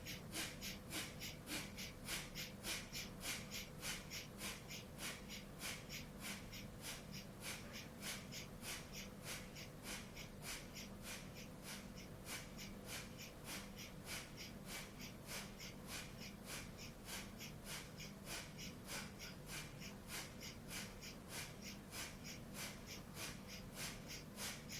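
Rapid, steady fire breathing during a yoga class, sharp nasal exhalations pulsing evenly about two per second for the whole stretch, close and unbroken, with no talking over it.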